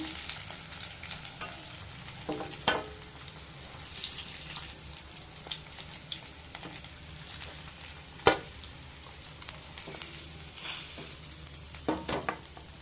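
Curry leaves frying in hot oil for a fish fry, giving a steady soft sizzle with scattered sharper crackles and pops, close and moderately quiet, with no talking.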